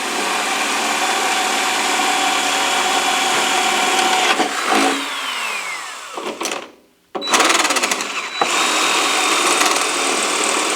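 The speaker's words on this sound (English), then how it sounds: "trying to drill straight through with the 3/8" Power drill with a 3/8 inch bit boring through metal along a previously drilled smaller pilot hole, a steady loud whine with a brief pause partway, then resuming at full speed.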